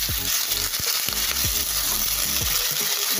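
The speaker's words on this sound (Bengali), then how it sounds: "তবে দেখো তেলটা গরম হয়ে গেছে, আমি লাউ চোচাগুলো দিয়ে দিচ্ছি।" Bottle gourd peels frying in hot oil, a close, continuous crackling sizzle with a few sharp pops and spatters.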